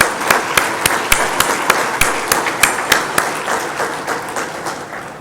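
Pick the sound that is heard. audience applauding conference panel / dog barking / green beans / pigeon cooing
audience applauding conference panel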